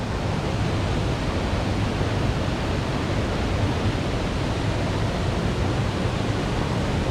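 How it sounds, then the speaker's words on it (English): The El Chiflon waterfall at San Cristobal roars as a steady, dense rush of falling water, loud and close, continuous throughout with no voices over it. "Waterfalls for days."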